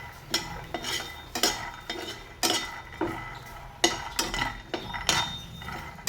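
Palak thecha ingredients dry roast in a pan. A spatula scrapes and knocks against the metal in repeated rhythmic strokes, with quiet gaps between the bursts.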